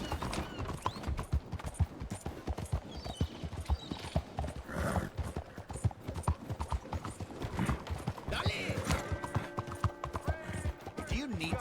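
Horse hooves clip-clop steadily throughout in a Red Dead Redemption game scene, a close rhythmic trotting with a possible brief whinny, set against busy in-game background sound.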